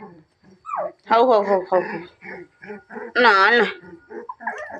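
A puppy whimpers in short, high, wavering cries close by, mixed with a person talking over it in a home setting.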